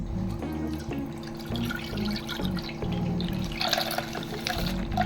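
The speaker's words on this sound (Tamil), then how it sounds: "இந்த 1/2 லிட்டர் பாலை வந்து நம்ம ஒரு பாத்திரத்தில் பிரித்து கொட்டிக்கலாம்" Half a litre of milk poured into a cooking vessel in a home kitchen, a continuous liquid stream with splashing and dripping close by, under a low background hum and a few clicks.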